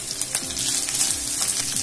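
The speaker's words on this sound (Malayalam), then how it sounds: "നന്നായി ഇളക്കി കൊടുക്കാം." Shallots and onion frying in a pan for a Kerala-style prawn roast, a continuous bright sizzle with spatula scrapes and stirring clicks, close by.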